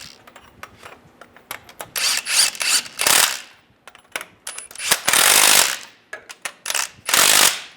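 Timing cover bolts being tightened on a 2007-2013 Chevy Silverado, with repeated close ratchet clicks and metallic rubbing in bursts, some long sustained runs, no talking.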